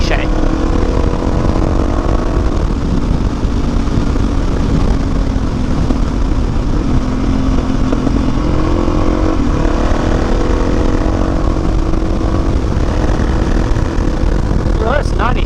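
A motorcycle races on a dirt track on slick tires, its engine droning steadily at high revs throughout with shifting pitch, loud and close, while a rider talks over it.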